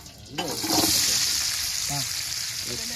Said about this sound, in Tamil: வெங்காயம் நல்லா இங்க செவந்து வதங்கணும்